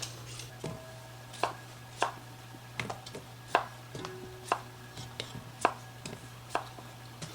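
Knife strokes peeling a russet potato with a green hue under its skin, heard as a steady series of sharp, close scraping cuts about once a second over a low constant hum, with no talk.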